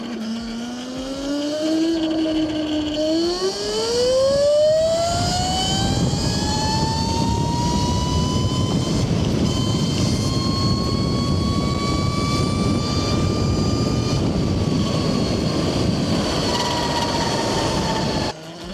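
A 72V electric Yozma IN 10 supermoto motorcycle accelerates hard, its motor whine climbing steeply in pitch, then holding a high steady tone over loud wind and road rush during a fast ride.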